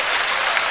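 A short patch of audience applause at a comedy show, even and dense, a touch softer, with no voices on top.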